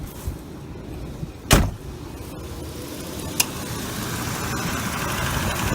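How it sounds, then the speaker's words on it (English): Running 2001 Ford Explorer with the AC compressor on, giving a low, steady rattling drone under engine noise, with a couple of brief knocks or clicks standing out. "when you put the AC on, the compressor is making a little bit of noise"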